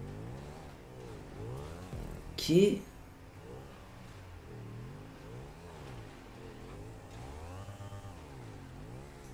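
A motorcycle engine in a video game revs in repeated rising and falling sweeps with a steady rhythm, while a person talks over it and a brief louder bump occurs early on.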